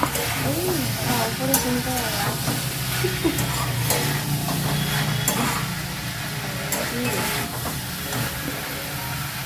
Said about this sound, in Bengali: বউ এখন ফুলকপি আলুর তরকারি করছে আর বেগুন পোড়াচ্ছে